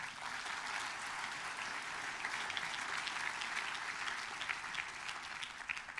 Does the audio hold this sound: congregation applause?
yes